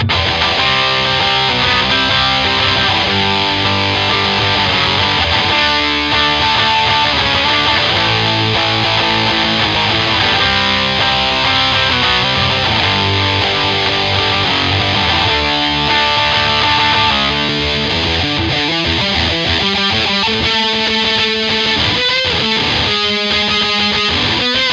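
Heavily distorted electric guitar through a distortion pedal playing a dense, driving rhythm part, loud and continuous with chugging repeated notes and no talking.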